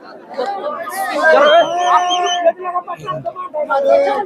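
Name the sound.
large crowd chattering at an event in Nashik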